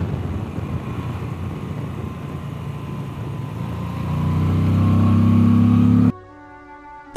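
A Moto Guzzi V85 TT motorcycle fitted with an Öhlins TTX46 shock, its engine droning steadily under wind while riding, then rising to a louder, firmer pull before cutting off abruptly near the end.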